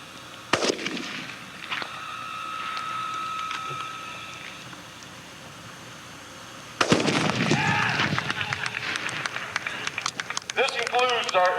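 Heckler & Koch G11 K2 caseless rifle firing on an outdoor range: a sudden loud burst of rapid sharp cracks and pops begins partway through, continuing in dense clusters after a quieter stretch with a voice and steady tones.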